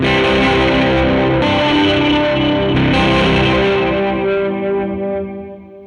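A sustained distorted electric guitar chord through a Catalinbread Soft Focus reverb pedal, modulation turned all the way up, shimmering with wavering chorus-like modulation and a wash of reverb, ringing out and slowly fading.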